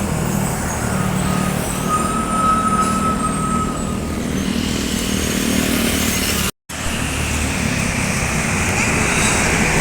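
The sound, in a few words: bus driving past toward Padang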